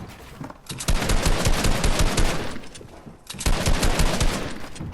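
Automatic gunfire in a Fortnite match comes in two long, dense bursts split by a short lull. The shots are loud, close and rapid.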